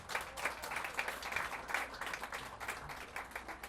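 An audience at a public announcement event gives a round of applause, a continuous, fairly even patter of many hands clapping at middle distance with no speech over it.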